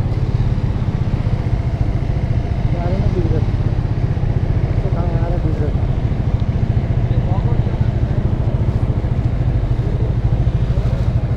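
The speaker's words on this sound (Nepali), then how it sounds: "हाम्रो पछि त बाइकहरू कति आइरहन" Motorbikes riding along a mountain road, a continuous close engine rumble with steady clatter and vibration, while people talk over it throughout.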